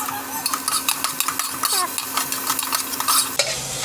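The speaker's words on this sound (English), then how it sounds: "Let the onion saute well." Onion sautéing in a small amount of oil in a pan over a low gas flame, with a steady close sizzle broken by frequent quick scrapes and clinks of a utensil stirring against the pan.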